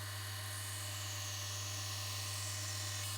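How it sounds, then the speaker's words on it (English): A diamond saw trims the sides off a piece of opal while making opal triplets, giving a steady, even whine that holds unchanged from start to end with no talk over it. "Using our diamond saw, we'll gently, carefully cut these off."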